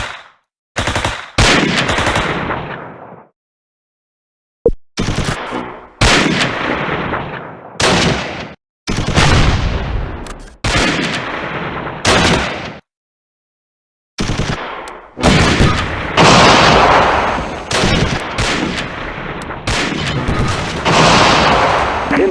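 Heavy gunfire in a Close Combat battle: repeated loud bursts of machine-gun and rifle fire with deep booms, separated by brief silent gaps, with no talking.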